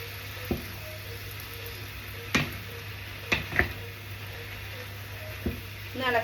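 Food frying in a pan that has been covered and then stirred, a soft steady sizzle broken by several sharp clicks and knocks of a lid or spoon against the pan; no speech.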